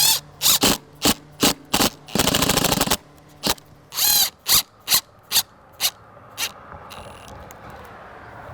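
Power driver sinking screws into PVC exterior window trim, a series of short loud whirring bursts with two longer runs, then quieter handling noise at the end.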